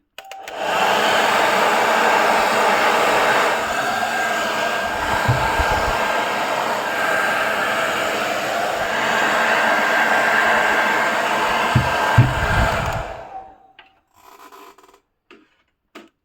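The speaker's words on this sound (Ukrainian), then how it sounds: "завжди нас виручить фен моєї дружини" A household hair dryer blows steadily with a loud, continuous whooshing roar, used on heat-shrink tubing, punctuated by a few brief handling knocks, then cuts off near the end.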